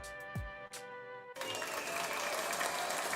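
A burst of crowd applause and clapping swells up after a few short tonal electronic sounds, then continues steadily and fairly loud to the end.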